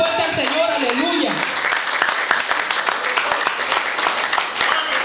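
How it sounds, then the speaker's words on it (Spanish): A church congregation claps loudly together, the dense applause continuing steadily for several seconds, with voices and some singing or speech heard at the start. "denle un aplauso fuerte al Señor"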